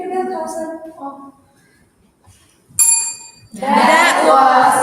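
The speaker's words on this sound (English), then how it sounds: "So you can ring the bell, Carlson." A bell at a speaking event gives a single bright ring that is loud and close, with a sustained tone, set between stretches of nearby speech.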